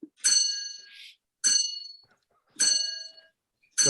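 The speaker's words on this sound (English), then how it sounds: "excuse the grandfather clock" A grandfather clock chimes in a home setting, sounding four resonant metallic strikes evenly spaced about a second apart, each ringing and decaying, clear and moderately loud with no speech over them.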